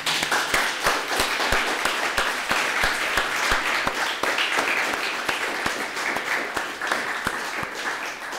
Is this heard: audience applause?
yes